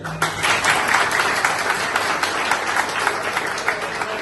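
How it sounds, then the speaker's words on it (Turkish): Thick, continuous applause from a crowd of Rizespor football supporters at a fan group gathering, loud and sustained throughout with no talk over it. "Siz Osman Koçali'yi alkışlayın"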